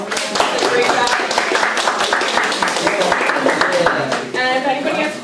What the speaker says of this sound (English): Let's give our debaters a round of applause